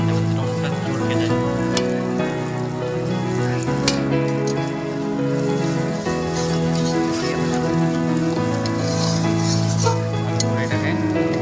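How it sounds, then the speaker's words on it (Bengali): Spice masala with chopped tomato sizzles and crackles steadily in a pan, close and loud, with soft stirring scrapes mixed into a constant dense frying hiss and no talking. "এরপরে আমি এর মধ্যে টমেটো অ্যাড করবো, টমেটোর কুচি এটা দিয়ে হালকা হালকা ঘাঁটিয়ে নেব"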